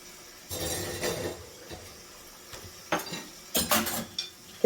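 Piled-up dishes being washed at home give sporadic clinks and clatters of cutlery, plates and pots, with quiet gaps between the louder knocks.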